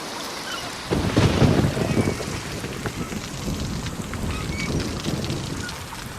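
A thunderstorm with rain, as heard in a VR experience: a quiet moment gives way to a deep rolling thunder rumble under a continuous hiss of rainfall.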